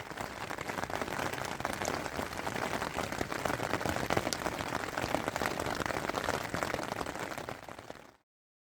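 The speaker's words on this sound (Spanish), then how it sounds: "cayó la lluvia." Steady rain pours down in a forest at night, a dense, continuous patter that stays loud and even before cutting off abruptly, with no voices.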